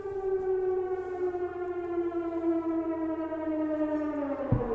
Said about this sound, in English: So now they are just testing if it's working